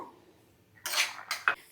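A small metal pan set down for tempering gives a couple of bright clanks and clinks against cookware, close by and brief, following a quiet moment with no talk.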